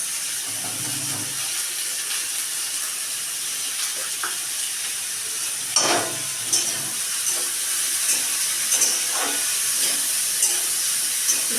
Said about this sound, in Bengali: ভাজা হোক একটু লাল লাল।